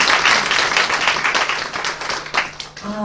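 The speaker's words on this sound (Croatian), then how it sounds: "I jedan aplauz za Anitu i za to rečenicu." An audience claps at a book promotion in Belgrade, a dense burst of applause filling the whole moment and tapering near the end.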